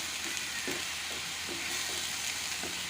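Ground onion paste frying in a hot kadai for chole bhatura, giving a steady close sizzle broken by soft periodic stirring strokes.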